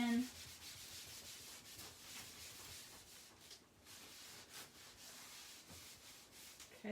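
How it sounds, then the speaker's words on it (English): Rag rubbing wax into a wooden door tag, a soft, continuous scrubbing and rubbing with a steady back-and-forth rhythm, faint and close. "So we're just going to get that on there really well, rub it in."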